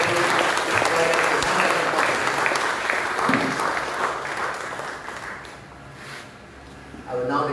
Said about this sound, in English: one more round of applause for the entire team